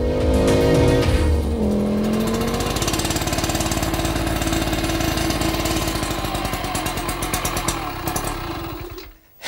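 A small, roughly 30-kilo citybike moped engine revs up, then settles into a continuous buzzing drone, close and fairly loud throughout before fading out abruptly at the end.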